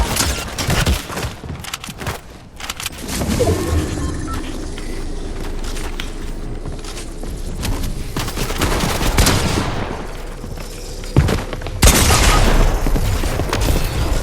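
Dense, continuous video game gunfire with rapid bursts and booming impacts, loud and chaotic throughout, with occasional heavier thumps.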